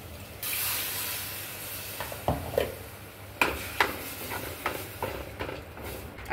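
Heated water is poured into a sizzling garlic and fenugreek gravy in the pan, giving a sharp, loud hiss that gradually settles into bubbling, with repeated spatters and crackles afterwards.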